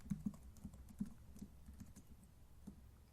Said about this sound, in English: We're typing in password.